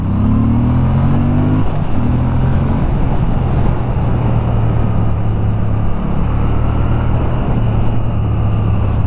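A 2025 Moto Guzzi V7 Sport motorcycle engine runs loud and close, a low throbbing twin-cylinder drone whose pitch rises and falls with throttle changes, continuous throughout without talk.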